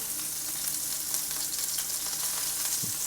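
Butter sizzling and frying in a hot pan, a steady bright crackle held at even loudness throughout, close up, with a brief stirring scrape near the end.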